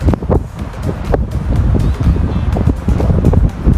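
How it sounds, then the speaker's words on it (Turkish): Heavy wind buffets the microphone in rumbling, uneven gusts near the Toparlar waterfall in Köyceğiz, Turkey, a loud low roar that swells and drops with no voices over it. "gerçekten güzel bir rüzgar var"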